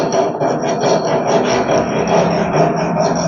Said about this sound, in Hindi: साफ करो, इधर से रगड़ो।